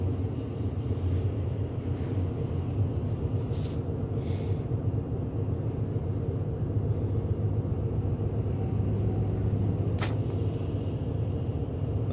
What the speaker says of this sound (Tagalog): May traffic dito.